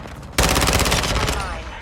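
A burst of rapid automatic gunfire from the ISO Hemlock in Call of Duty Modern Warfare II, loud and close, starting abruptly after a short quiet moment and rattling continuously.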